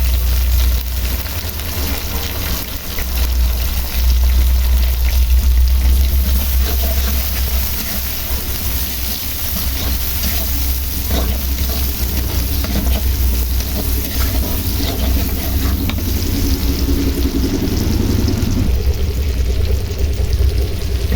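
Onion, garlic, green chili and tomato frying in a pan for a prawn and yam curry, a loud, steady sizzle with a low rumbling hiss that runs without pause, close to the pan and with no talking.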